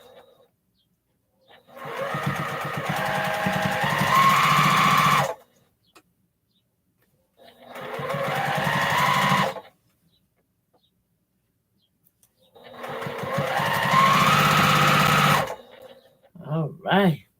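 Sewing machine stitching a 1/4-inch seam on a postage stamp quilt top, heard in three sustained runs of steady mechanical whirring separated by pauses, with a brief voice at the end.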